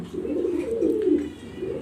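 A master pair of black exhibition pigeons, kept with eggs and chicks, gives one close, continuous throaty coo that swells and fades over a short stretch.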